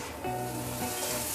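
Three jumbo hotdogs sizzle quietly in a pot as they are stirred, a soft, continuous frying hiss heard alone without talk.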